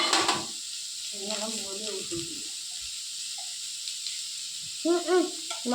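Cooking oil is poured into a hot pan and sizzles with a steady hiss, while people talk intermittently over it.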